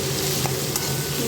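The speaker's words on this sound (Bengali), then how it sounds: "নেড়ে চেড়ে" Turmeric stirred through hot oil in a frying pan while cooking moong dal with cucumber, giving a steady low sizzle with soft scraping stirs, close and continuous.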